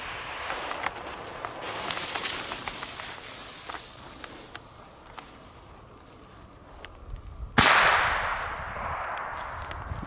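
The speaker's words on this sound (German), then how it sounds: "als erstes jetzt der China-Böller B von Panda" A Panda China-Böller B, a medium German firecracker, goes off in one loud, sharp bang close by after several seconds of faint crackling and scattered clicks, the blast ringing out and fading over the final seconds.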